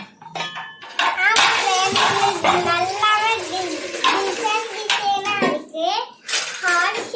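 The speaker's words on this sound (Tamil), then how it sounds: "இப்போ வந்து தண்ணி ஊத்திக்கலாம்" Water pours steadily into a metal idli pot for several seconds, with dishes clinking and a voice speaking over it.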